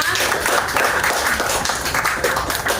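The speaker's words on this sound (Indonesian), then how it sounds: "tepuk tangan dulu untuk kalian" Students in a classroom clap together, a loud, dense burst of hand claps filling the room for a few seconds with faint voices mixed in.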